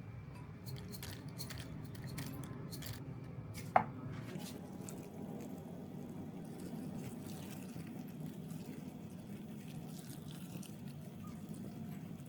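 Green onions being chopped with a knife on a cutting board, a quiet, steady run of soft rapid cuts with a single sharper knock, faint and close, no talking.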